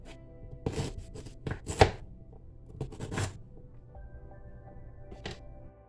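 Knife chopping ginger and other ingredients on a cutting board for homemade ginger ale: about eight sharp, irregular chops close by, spaced across a few seconds, with no voices.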